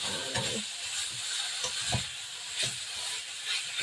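Pork belly sizzling in a pan with garlic and onion, a steady frying hiss broken by repeated stirring scrapes, close and fairly loud with no talking.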